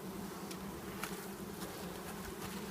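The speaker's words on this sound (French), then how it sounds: "Et là, je dépose les abeilles ici." Honeybees buzz steadily around a hive entrance, a dense continuous drone with individual bees passing near and far, no voices.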